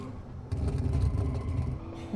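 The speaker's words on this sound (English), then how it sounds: "every single time when you get off the throttle backfire" A sports car engine in the Automation driving game comes off the throttle, its exhaust rumbling with crackles from the backfire over a couple of seconds, loud and close with no one speaking.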